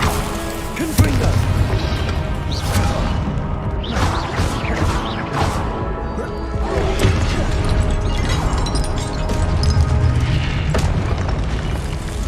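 Repeated Confringo fire-spell blasts in the Hogwarts Legacy video game, a run of booming, crashing explosions spread over several seconds, fairly loud and dense with rumbling game noise between bursts.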